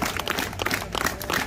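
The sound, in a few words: audience clapping together, louder and faster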